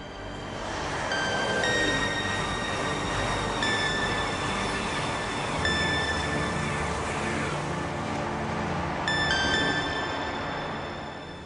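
An ICE high-speed train runs along a new high-speed line, its rumble swelling and easing with repeated high metallic squeals and whines over a steady rolling roar, and no voices.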